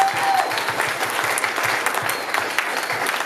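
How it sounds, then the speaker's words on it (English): A crowd at a student executive election forum gives the candidates a round of applause, dense steady clapping filling the room from start to end. "just a bit of a round of applause for all the candidates today and all your answers"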